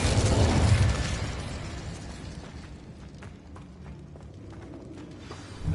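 An Incendio fire spell in Hogwarts Legacy bursts with a loud whooshing blast that fades over a few seconds into a crackling, smouldering tail.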